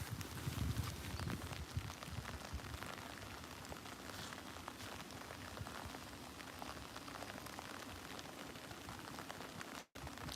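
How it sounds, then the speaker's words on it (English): Rain falling at Liverpool Airport, a steady dense hiss of drops pattering on nearby surfaces, fairly faint and continuous with no voices. "here comes the rain again"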